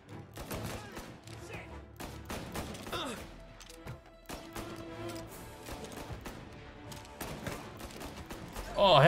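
Gunfire in Mafia: Definitive Edition, scattered sharp shots and short bursts at moderate loudness, separated by quieter gaps, ending in a louder burst.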